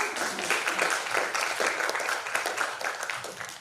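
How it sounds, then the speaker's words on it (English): Audience applause at an international student conference, a dense, steady patter of many hands clapping at moderate loudness for several seconds, no voices over it. "Give applause to Ibu Hanifah"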